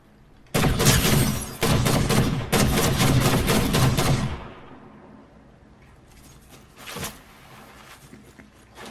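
Gunfire in Fortnite from a slow-motion time pistol, three loud close bursts of rapid shots, then a quieter tail with one more distant shot.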